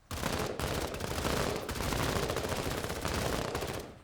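Dense automatic gunfire from K-Pack shots in the tactical video game MENACE, a rapid unbroken volley of loud cracks that runs for about four seconds, with only brief gaps and no voices over it.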